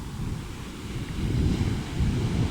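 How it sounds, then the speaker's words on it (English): Pacific Ocean waves crash and wash ashore in a steady, loud rumble with wind buffeting the microphone, no voices present. "those waves, they don't look that big, but when you get pounded by those waves, boy oh boy, you feel it"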